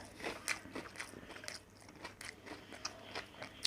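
Crunchy chewing and biting of a crab stick salad roll filled with imitation crab and sausage, close and intimate, with irregular crisp bites and wet mastication sounds, no talking.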